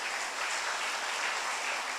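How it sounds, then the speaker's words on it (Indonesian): Audience applause for a donor at the inauguration of a Buddhist temple, a soft, even wash of many hands clapping, faint and continuous, with no voices over it. "Tepuk tangan untuk Ibu tadi."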